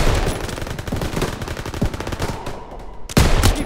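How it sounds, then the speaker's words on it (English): Rapid machine-gun fire in a World War II first-person shooter game, Call of Duty: World War 2, rattles on in loud, dense bursts, with a brief lull and then a sharp renewed volley near the end. "MGs, open fire!"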